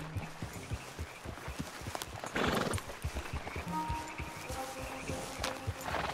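Horses in the Red Dead Redemption 2 video game, with a steady clip-clop of hooves and a loud neigh in the middle, close up over low ambient game sound.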